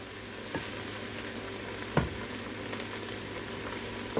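Garlic, peppers and basil sauteing in a pan for homemade tomato sauce, a steady soft sizzle and crackle with a couple of faint stirring knocks, no voices.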